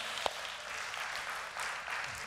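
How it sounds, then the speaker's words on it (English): A church audience applauds in a soft, distant wash of clapping that holds steady with slight swells, a single sharper clap near the start and no voices over it. "Give yourself an applause this morning."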